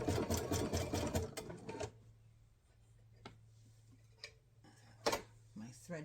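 Sewing machine stitching a fabric box, a close, rapid mechanical whirr for about two seconds before stopping, followed by quiet handling and a few scattered clicks and knocks.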